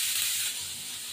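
Ridge gourd and potato dropped into hot oil, producing a loud, bright hiss of sizzling that eases slightly after the first half-second.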